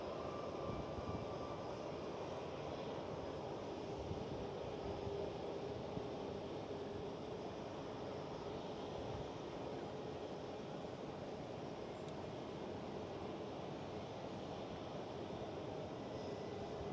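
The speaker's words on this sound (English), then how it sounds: "See the KLM SkyTeam E190 taxiing." A KLM SkyTeam Embraer E190 airliner taxies at Amsterdam Schiphol, heard as a steady, distant jet engine roar and whine held at an even level throughout.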